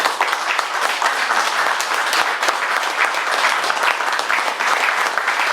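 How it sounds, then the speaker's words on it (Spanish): Sustained, dense applause from a large audience at a nationalist rally in La Plata, many hands clapping loudly and steadily without pause. "pido un fuerte aplauso para ustedes también por haber venido"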